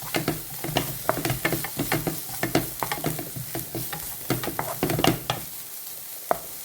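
Bitter gourd and carrot stirred in a pan with a spoon, giving quick, rhythmic scraping strokes over a continuous sizzle, close and fairly loud.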